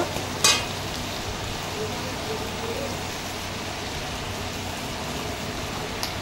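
Ginger paste is stirred as it fries in a pan, giving a steady broad sizzle with a low background hum and one sharp clatter of a utensil near the start.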